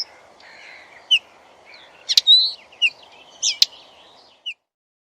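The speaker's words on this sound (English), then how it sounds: "Linnet." Linnet song: a string of short, bright twittering phrases and sharp chirps, some louder than others, over a soft steady background hiss.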